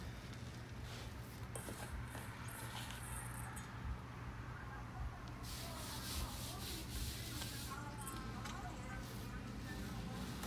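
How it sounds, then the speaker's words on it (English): Bacon cure is rubbed into a pork butt by hand, giving a soft, steady, close rasping friction that runs continuously, faint and even, under a low background hum. "you just want to make sure it gets nice and finely rubbed in"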